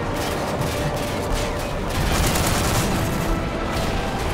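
Dense, continuous gunfire from Call of Duty: Modern Warfare 3 co-op play, a steady barrage of overlapping shots and bursts with booming impacts throughout, loud and sustained.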